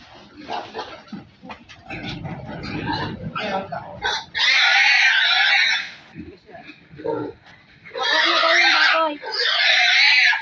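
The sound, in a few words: pig squealing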